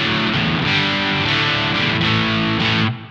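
Electric guitar through a Zoom Ultra Fuzz UF01 pedal with gain turned down to milder overdrive, gritty but less saturated, strummed chords ringing loudly for a few seconds before cutting off at the end.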